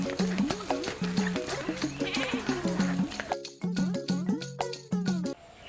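A goat bleats over and over in a rural village setting, its nasal, wavering cries coming in quick repeated bursts, fairly close and moderately loud.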